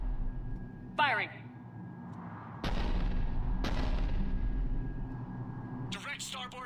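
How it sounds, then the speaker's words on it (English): Heavy cruiser cannon bombardment from the video game Mass Effect 3: two loud booming blasts with long rumbling tails, then a crackling burst of further fire at the end, under a steady low background hum. "cruiser initiating bombardment"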